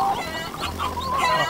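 Chickens in the farming survival video game Dinkum cluck and squawk in short bursts over a steady game backdrop, while someone talks over them.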